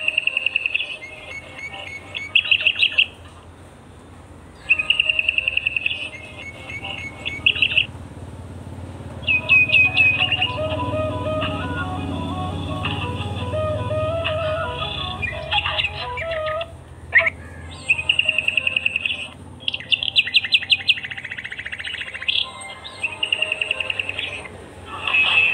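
Golden-coloured birds sing in repeated high, thin chirping bursts that come and go in short phrases, fairly close, over a low murmur of background noise and insect-like buzzing.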